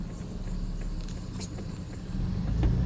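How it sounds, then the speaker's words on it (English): A pickup truck runs while driving, giving a steady low engine rumble and road drone close by that swells slightly louder toward the end, with no talking. "Apologize for the noise that my truck is giving out right here"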